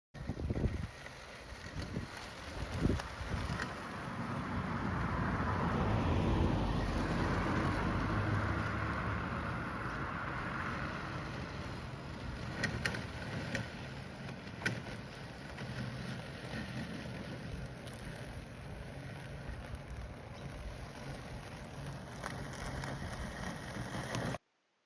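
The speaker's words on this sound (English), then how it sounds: "a short clip of Roger enjoying himself in some very long grass as a result of not being able to mow" A Landroid robotic lawn mower runs through very long grass, its low motor whir and the brushing of the grass carrying steadily throughout under heavy wind noise on the microphone, with no talk.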